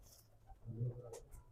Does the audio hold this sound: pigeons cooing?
yes